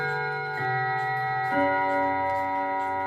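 An antique chiming clock with three mainsprings and eight chime rods ticks close and steady, while sustained ringing tones from the rods hang in the air and shift partway through.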